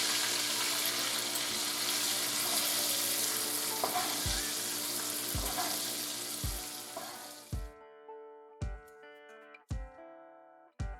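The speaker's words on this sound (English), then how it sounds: "Now I'm just going to take and baste these." Venison tenderloin sears in a hot pan while being basted with butter, a loud steady sizzle that cuts out abruptly partway through, followed by several sharp spoon-and-pan clinks in the quiet.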